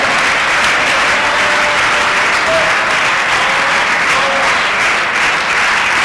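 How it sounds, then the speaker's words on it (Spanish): A church congregation claps loudly and steadily during a Sunday school service, a thick continuous wall of applause from the whole room with no break. "denle aplausos a la gloria de Dios"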